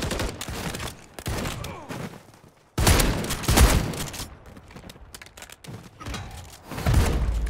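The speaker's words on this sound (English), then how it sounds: "I don't get this shotgun." A SPAS-12 shotgun fires in a multiplayer shooter game, heavy booming blasts in bursts with a sharp loud shot near the middle, while someone talks over the gunfire.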